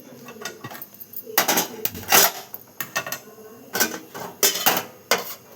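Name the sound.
cooking pot being placed on the stove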